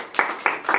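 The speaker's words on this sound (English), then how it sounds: "Give yourself a round of applause" A few bursts of hand clapping in a UCLA communication class after a debate on fracking come in uneven waves, sharp and fairly close, with short pauses between them.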